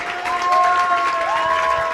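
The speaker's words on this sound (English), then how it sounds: "João Pacheco, your applause." Applause and cheering from a science slam audience in Barcelona for a speaker, continuous and fairly loud, with a couple of rising whistles or tonal calls over the crowd.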